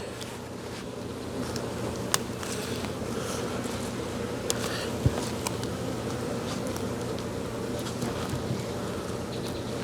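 Bees at a hive make a continuous low buzzing hum, steady and close, with a few faint ticks and bumps over it.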